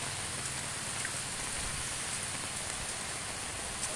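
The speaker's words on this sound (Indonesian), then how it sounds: "Hujan terus guys." Steady rain falls during a flood in Martapura, in a village lane left fully underwater. The hiss is constant and fairly faint, with no voices.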